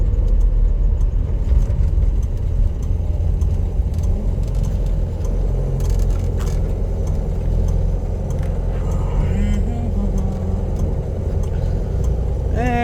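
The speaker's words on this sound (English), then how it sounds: "Sounds like an old car, but it drives really good." An old car engine running steadily while the car is driven, a constant loud low rumble with some faint rattles and jingling on top and no voices.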